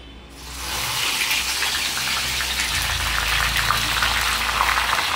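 Hibiscus flowers dropped into hot oil for a homemade hair oil, setting off a loud, steady sizzling hiss and crackle that starts suddenly and carries on close by.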